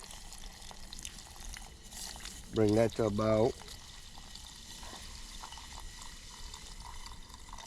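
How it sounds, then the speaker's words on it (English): Water is poured into a pot of simmering chicken over a campfire in the woods, a soft continuous trickle running throughout, with someone speaking briefly over it. "I'm gonna go ahead and add my water up in there."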